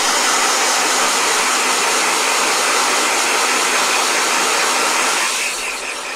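A blow dryer runs in a steady, loud, close whoosh of broadband air noise, continuous throughout and easing slightly in level near the end, with no talking.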